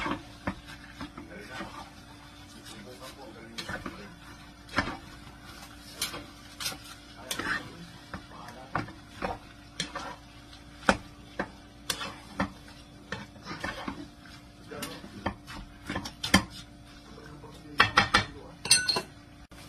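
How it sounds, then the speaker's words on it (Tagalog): Bopis with bay leaves is stirred in a metal pot, giving a series of irregular, fairly quiet clinks and scrapes of a utensil against the pot, close by, with a faint background hum. "Samahan natin ang ating laurel or bay leaves. Haluin lang natin ng maayos."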